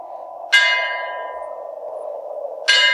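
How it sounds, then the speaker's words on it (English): Two church bell strikes from St. Mary's ringing midnight, each a bright metallic clang with a long humming decay over a steady low drone, the second toll arriving after a long pause. "The bells of St. Mary's broke the silence. Midnight."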